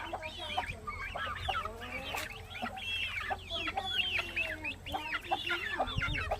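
A flock of chickens clucks busily around their new coop, a dense run of close, overlapping clucks and short calls that goes on without pause.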